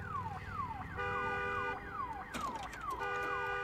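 Car alarm in the Days Gone video game, a repeating falling wail with a steady electronic tone underneath, loud and close, with a few sharp crashes partway through and no talk.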